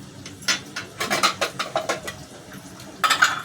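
An idli steamer pot and its plates being greased with oil at home: a run of close, light metallic clinks and scrapes in an uneven rhythm, with a louder clatter near the end.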